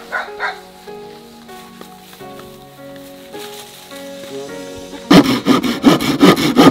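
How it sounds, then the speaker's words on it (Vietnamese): A hand saw cuts through bamboo branches outdoors, with loud, fast, rhythmic rasping strokes that start suddenly near the end after a quieter stretch of tonal background sound. "Rồi, cưa của ông Sáu cũng tới lắm ông Sáu ơi."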